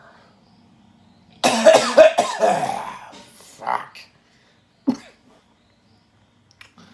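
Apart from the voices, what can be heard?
coughing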